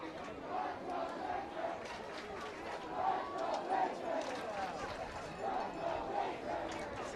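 A crowd at a 2012 high school football home game, Chicopee High against Chicopee Comprehensive, roars and cheers steadily throughout, a dense wash of many voices with swelling peaks and no single clear speaker.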